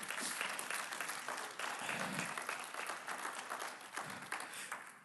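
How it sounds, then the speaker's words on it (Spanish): A church congregation giving a strong round of applause for the Lord, dense continuous clapping from many people, fairly distant, with a few voices faintly mixed in. "Vamos a darle un fuerte aplauso al Señor."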